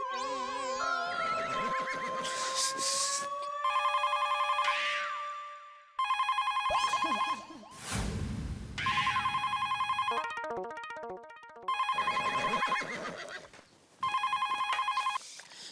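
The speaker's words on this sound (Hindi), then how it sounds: "बदले हुए सिम कार्ड से ही मैंने सुंदर को फोन ठोक दिया।" An electronic phone ringtone plays in repeated bursts of warbling tones, loud and close, separated by brief gaps, with no talking.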